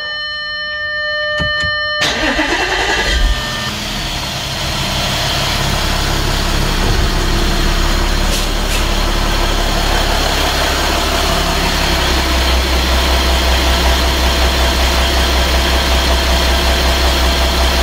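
An Audi V6 TDI diesel engine cranks and catches after about two seconds, then settles into a steady, close diesel idle with a low, even rumble.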